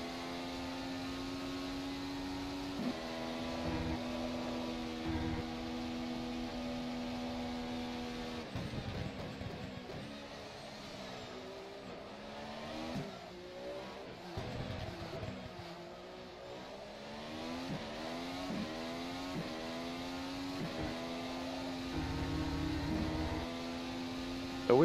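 A Formula SimRacing FSR 2018 development car in rFactor 2 runs an installation lap, its engine droning steadily at high revs with harmonic pitch climbs and dips through gear changes and lifts, loud and continuous with no talking.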